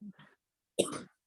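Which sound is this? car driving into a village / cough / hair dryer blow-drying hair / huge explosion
cough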